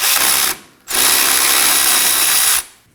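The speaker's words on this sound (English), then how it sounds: "Using a 19mm socket, go ahead and remove this bolt." A ratchet with a 19mm socket works loose a caliper bracket bolt on a 2017-2024 Nissan Armada during a parking brake shoe job, giving a loud, close mechanical whir in a short burst and then a longer one.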